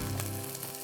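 Chicken frying in a Dutch oven, a steady close sizzle with a low rumbling undertone that holds evenly throughout, with no talking.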